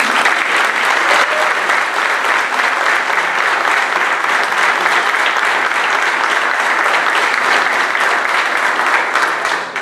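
Sustained, loud applause from a concert audience at an anniversary folk ensemble performance, a dense steady wash of clapping lasting the whole stretch without pause.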